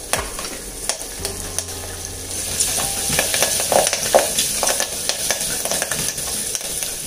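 Curry leaves sizzle loudly in hot oil in a clay pot, a dense close crackle with stirring scrapes that grows stronger after the first few seconds.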